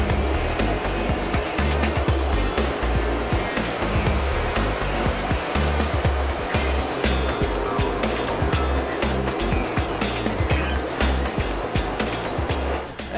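Water rinses a screen printing screen with a loud, continuous broadband hiss and splatter that holds steady throughout, close and strong, with no talking.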